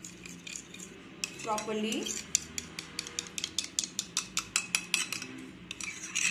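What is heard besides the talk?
mixing curd in a bowl with a spoon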